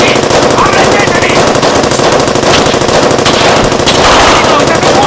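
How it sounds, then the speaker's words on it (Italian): Sustained, loud automatic gunfire in the World War II game War Man 2 during the Operation Market Garden farm battle, a dense unbroken rattle of rapid shots filling the whole stretch with faint voices beneath. "Ti sparano addosso!"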